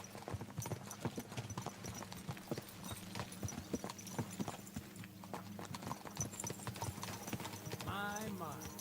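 Horse hooves clip-clop in a steady, brisk rhythm over a low musical backdrop in the video game Kingdom Come: Deliverance II, with a short whinny near the end.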